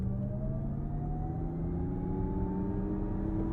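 A Lexus RZ450e electric car accelerates at full throttle in sport mode, a smooth, steady whir with tones rising slowly over a low road rumble from inside the cabin, with no talk.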